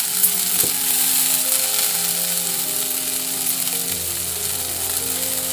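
Green peas with green chilli, coriander and cumin powders frying in a pan, a continuous bright sizzle with a soft stir or tap near the start, backed by faint steady music tones.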